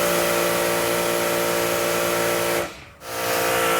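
A Comet Static 1700 pressure washer sprays water through a 4.0 nozzle with a loud, steady, close hiss that dips briefly near the end before resuming.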